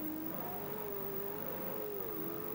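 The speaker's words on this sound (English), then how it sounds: "they're screaming that engine through the hairpin there" A sidecar racing outfit at the Salzburgring screams its engine through the hairpin during a World Championship race, a steady high-pitched engine whine that rises and dips slightly, heard from a distance over broad track noise.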